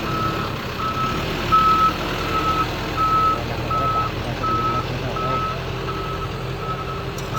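A wheel loader backs up on an outdoor earthworks job, its reversing alarm sounding a steady series of regular beeps over low engine rumble and background noise, with no speech.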